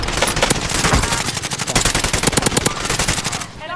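Rapid automatic gunfire in Call of Duty Warzone rattles loud and nearly continuous, a dense stream of close shots that tapers off at the very end.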